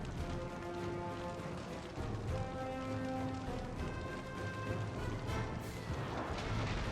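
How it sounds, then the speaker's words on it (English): Cannon artillery firing during a Napoleon Total War siege battle in the Prussia campaign: a dense, continuous rumble of booms and crashes under sustained tonal battle sound, with no clear gaps. "the cannons are putting some fire on those boys"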